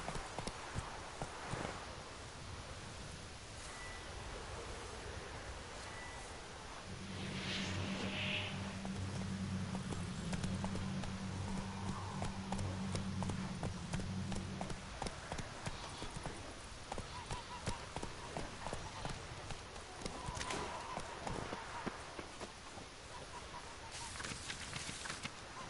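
In a video game, the horse Roach gallops with rhythmic hoofbeats clip-clopping steadily at a moderate distance, the player's voice briefly speaking over it.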